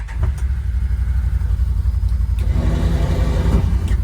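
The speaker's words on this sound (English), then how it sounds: "Fire up the old Can-Am." An old Can-Am off-road vehicle's engine runs loud and close on a snowy winter day, a steady mid-pitched rumble that grows slightly rougher partway through, with no talk.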